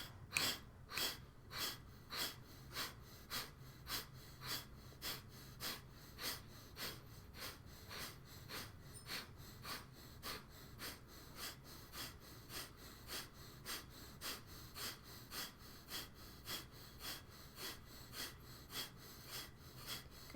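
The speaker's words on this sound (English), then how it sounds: "exhale, breath of fire" Breath of fire yoga breathing: rapid, rhythmic forceful nasal exhales, close and fairly faint, about two per second in an even steady pulse with no talking.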